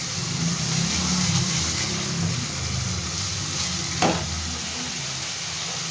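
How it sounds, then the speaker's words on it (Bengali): Tomato paste and spices fry in a pan, giving a steady, close sizzle that holds throughout, with one brief clink partway through. "এবার এই মশলাগুলো সব খুব ভালো করে আমি ভেজে নেবো"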